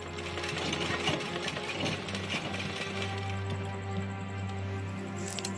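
A sewing machine stitching a lehenga choli, running in a steady close mechanical whir with a fast regular needle rhythm and a constant low motor hum throughout, with no talk.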